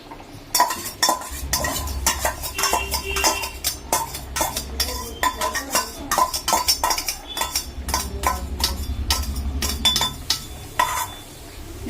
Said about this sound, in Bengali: এবার আমি এই বেগুনটা ভেজে রেখেছিলাম, সেই বেগুনটা এর মধ্যে মেশাচ্ছি।